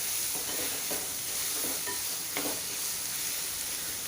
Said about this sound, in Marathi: आता आपण हा छान सोनेरी रंग येईपर्यंत एक 4 ते 5 मिनटं परतून घेऊया.